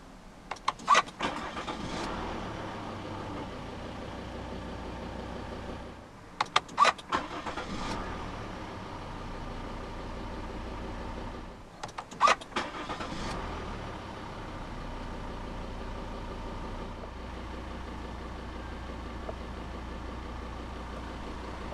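A 2015 Volvo XC60 with a 2.4 D4 diesel engine cranks and starts three times, each start a sharp burst of starter whine and catch, then settling into a low, steady idle.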